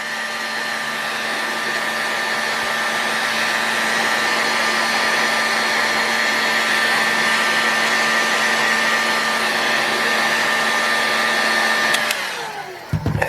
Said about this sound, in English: So I'll just give this crankcase just a little bit of heat to help expand that aluminum and ease the installation of the bearings.